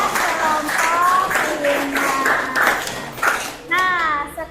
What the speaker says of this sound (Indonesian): beri tepuk tangan dulu dong buat kelompok